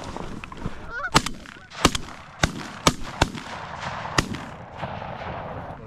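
Canada geese honk in a cattle pasture during a goose-hunting opener, several sharp loud bursts scattered irregularly over a few seconds against a quiet outdoor background.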